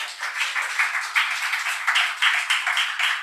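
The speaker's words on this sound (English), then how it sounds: "A round of applause to them." An audience at an event claps in a brief round of applause, the individual claps rhythmic and fairly close, with a steady pulsing texture throughout.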